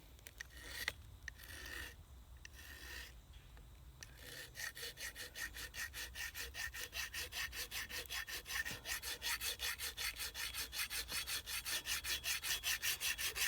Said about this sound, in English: I guess I should be filing this way anyway, shouldn't I?